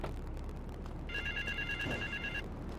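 Payphone ringing in GTA III, a shrill electronic telephone trill of about a second and a half, sounding clearly over constant low game ambience with no talking.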